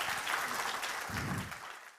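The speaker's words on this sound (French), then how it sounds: "François-Marie Bréon, on peut l'applaudir." Audience applause at a CEA climate conference in May 2022. The clapping is steady, dense and moderately loud through the whole short stretch, with no voices over it, and it cuts off abruptly at the end.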